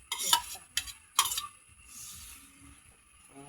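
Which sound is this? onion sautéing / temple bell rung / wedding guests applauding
onion sautéing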